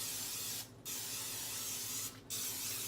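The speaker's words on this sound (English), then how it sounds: "I'm going to spray them with the spray" Cooking spray hisses steadily onto baking pans for banana bread loaves, in two long bursts, each broken by a short pause, close to the microphone and with no talking.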